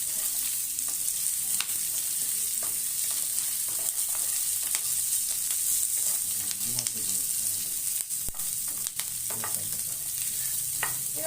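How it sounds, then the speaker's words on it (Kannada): Onions, mushrooms and cashews fry in a pan with a steady bright sizzle, while a utensil stirs and scrapes in irregular clicks and knocks close by. "ಇದನ್ನು ಸೇರಿಸ್ತೀನಿ ಸೇರಿಸ್ಬಿಟ್ಟು ಚೆನ್ನಾಗಿ ಫ್ರೈ ಮಾಡ್ಕೊಳ್ಳೋಣ"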